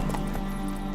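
Clip-clop of Geralt's horse Roach in Witcher 3, a quick pair of hoof strikes over a steady droning ambient bed.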